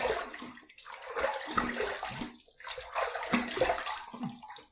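Tap water splashing as a face is rinsed after shaving, in close, irregular bursts of splashing and running water, with no talking.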